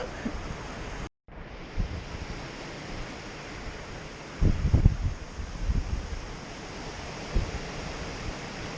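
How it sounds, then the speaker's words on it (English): Strong wind gusting outdoors during a hurricane-like night, a steady loud roar with buffeting on the microphone and heavier gusts swelling midway through. "Getting blown all over the place."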